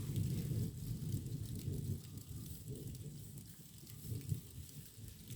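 Heavy rain from an approaching lightning storm pours down in a steady, dense hiss, with low rumbling beneath that may be distant thunder; no voices are heard.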